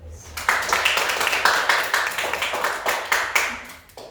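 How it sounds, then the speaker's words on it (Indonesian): A classroom of students claps for a classmate during an economics lesson, brisk group clapping with rhythmic surges that is close and fairly loud, tapering off at the end. "tepuk tangan buat Natalia."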